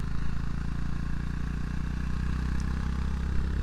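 A Honda GB350S single-cylinder retro motorcycle being ridden, its engine thumping steadily with a deep, continuous low rumble and dense pulsing exhaust, close and fairly loud throughout with no talk.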